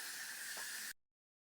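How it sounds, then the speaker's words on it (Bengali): Sliced onions drop into hot oil in a pan where prawns have just been fried for a coconut prawn curry, giving a steady loud hiss of sizzling that runs about a second and then stops abruptly. "দিয়ে দিলাম পেঁয়াজ"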